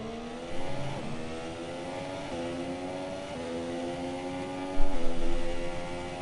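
Simulated F1 car engine from the game F1 2017 during practice in Russia, a high-pitched whine rising through gears with upshift drops, steady and close, swelling louder near the end as another car passes.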